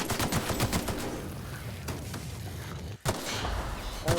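Explosive weapon fire in The Outer Worlds, a loud dense burst of rapid blasts and crackling impacts running almost continuously, with a brief dip near the end before the barrage resumes.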